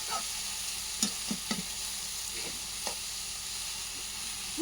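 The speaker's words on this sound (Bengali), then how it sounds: "মাসি বাঁধাকপি বসিয়ে দিয়েছে, পেঁয়াজ রসুন দিয়ে দিয়েছে, দিয়ে আর বাঁধাকপিটা দিয়ে দিয়েছে ভেজে।" Cabbage fries with onion and garlic in a pan, giving a soft, steady sizzle. A few light stirring clicks and scrapes break in now and then. The sound is quiet and close, with no voices.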